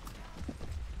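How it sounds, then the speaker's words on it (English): Horse hooves clip-clop in Mount & Blade Warband as a mount arrives, a short, steady patter of hoofbeats mixed into busy game noise. "your new horse is coming in"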